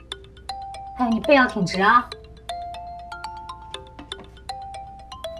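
A phone ringtone plays a simple repeating electronic melody of clear, thin tones at moderate volume, starting under a woman's short spoken line and then continuing alone.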